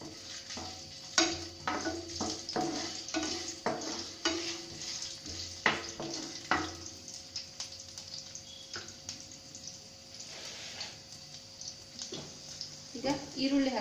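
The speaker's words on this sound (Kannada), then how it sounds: "ಇನ್ನೊಂದು ನಿಮಿಷ ಫ್ರೈ ಮಾಡೋಣ." Cinnamon, cloves, bay leaf, garlic and ginger fry in a pan with a close sizzle. A spoon scrapes and taps the pan in quick bursts, and a voice talks over it at times.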